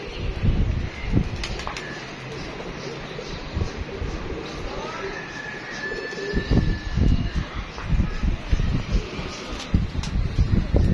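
Pigeons cooing and fluttering amid steady wind noise, with scattered bird calls and some thumps throughout.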